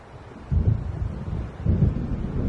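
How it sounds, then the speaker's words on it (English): An approaching storm in the Alan Wake game rumbles low and dull in two swelling surges under a steady wash of wind, with no voices. "It seems there's a storm coming."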